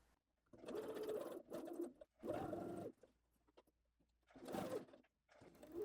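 A sewing machine stitches a sleeve into a dress armhole in several short bursts separated by pauses, quiet and close.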